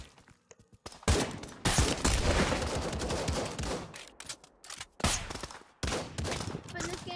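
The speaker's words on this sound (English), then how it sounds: "Hey, they are heavy firing at me!" Heavy gunfire in the VR shooter game Pavlov Shack: dense bursts of automatic rifle fire crackle close and loud, breaking off in short gaps and then resuming, with a voice speaking between the bursts.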